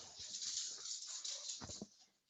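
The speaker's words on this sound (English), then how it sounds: "So kind of excuse my dog" Dog whimpering and yipping at close range during a home online seminar, with a steady high hiss running underneath and a brief cluster of louder whines near the end.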